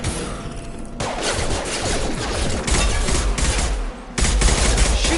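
Rapid automatic gunfire in the sci-fi shooter Mass Effect, a dense, loud continuous barrage of overlapping shots with brief pauses and sharper bursts near the end, with no voices over it.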